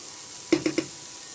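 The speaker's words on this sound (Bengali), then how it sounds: "এবার আমি ভালো করে নেড়ে চেড়ে নিচ্ছি।" Pumpkin pieces with turmeric powder frying in a pan, with three quick scraping stirs against a steady soft sizzle, close and alone.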